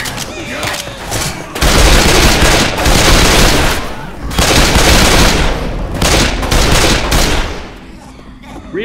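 Dense, loud gunfire from several weapons fills nearly nine seconds of Left 4 Dead 2 as mud men are shot, coming in heavy bursts with short pauses and voices mixed underneath.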